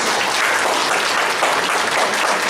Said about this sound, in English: Give them some round of applause